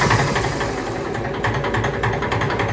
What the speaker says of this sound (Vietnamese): Tiếng nổ của động cơ Yamaha 62 triệu cho cô chú anh chị mình